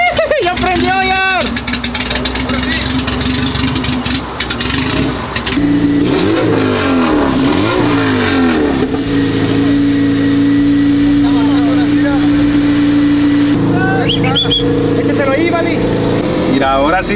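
A Honda car engine catches and revs after being started, a loud steady drone rising and falling through several revs, with people talking and exclaiming over it.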